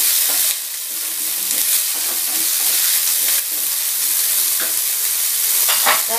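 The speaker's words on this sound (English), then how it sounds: "Tapos, lagay na natin yung ating sausage." Sausage frying with rice in a pan, a loud, close, continuous sizzle with steady hiss and occasional scraping stirs, no voices over it.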